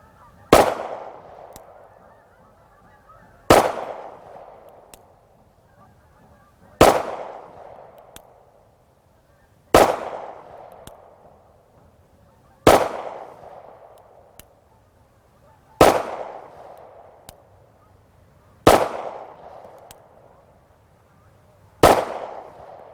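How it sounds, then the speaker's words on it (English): A SIG pistol fires hollow point rounds: eight sharp, loud shots at a slow, steady pace roughly three seconds apart, each followed by a short echoing decay and quiet between them. "now I'm shooting hollow points instead of full metal jacket"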